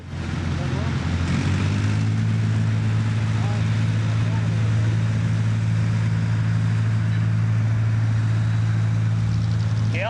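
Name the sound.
tractor engine at tractor pull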